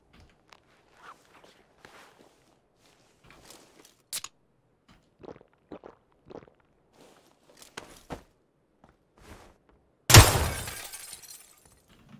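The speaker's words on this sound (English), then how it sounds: "I was shooting glass." Glass shatters once, loud and sudden, from gunfire in the PUBG battle royale game, following a stretch of faint footsteps and small clicks.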